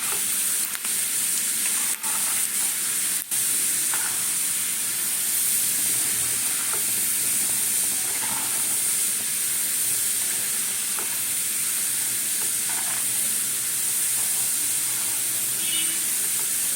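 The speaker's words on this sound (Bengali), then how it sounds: "এইভাবে হালকা করে নাড়াবে আর ভাজবে" Dalmut, a Bengali lentil snack mix, fries in a pan with a steady soft sizzle while a utensil stirs it, giving occasional scrapes and taps. The sound is close and fairly quiet, with no talking.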